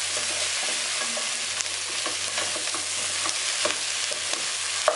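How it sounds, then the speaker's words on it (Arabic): Garlic frying and sizzling in a pan while being stirred for a dish of cow's trotters, a steady close hiss with scattered scraping clicks from the spoon throughout. "وهننزل بعد كده بالثوم."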